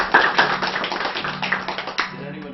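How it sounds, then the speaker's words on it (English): Scattered clapping from a small group, uneven and fairly close, with a few brief voices mixed in before it trails off. "So I think Yeti deserves a round of applause here"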